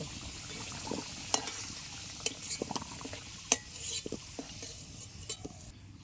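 Potatoes frying in oil in a pan in a home kitchen, a faint steady sizzle broken by scattered sharp clicks and scrapes of a utensil stirring against the pan.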